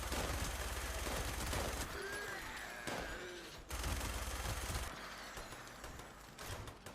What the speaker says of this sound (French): j'entends des tirs mon général